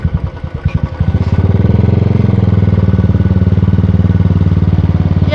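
A motorcycle engine on a ride in the hills of South Sikkim throbs loudly and close, sputtering at first and then settling into a steady, rapid pulsing beat.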